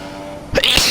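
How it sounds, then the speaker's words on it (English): A single sharp human sneeze bursts out suddenly after a near-silent moment, as a sim-racing driver sneezes while braking in a Russian Grand Prix career-mode race. "Actually managed to sneeze whilst braking."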